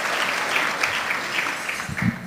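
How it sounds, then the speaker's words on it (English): Church-style gathering audience applauding for Angela, a steady wash of many hands clapping at moderate distance, with a few louder claps near the end. "give Angela a round of applause"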